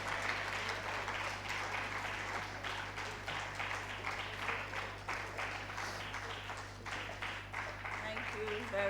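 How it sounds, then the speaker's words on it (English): Sustained audience applause fills a conference plenary hall, a dense steady wash of many hands clapping that continues without a break and stays fairly even in level from start to finish. "She's even getting foreign applause."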